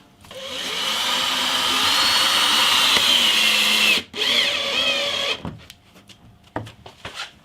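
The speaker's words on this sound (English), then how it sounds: "I'm going to crack on and saw this through" A power saw cuts steadily through a strip of old fence wood for a guitar fretboard, whining loudly for about four seconds, then dipping and finishing with a few clunks and taps.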